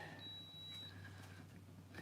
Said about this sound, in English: Ignore that beeping.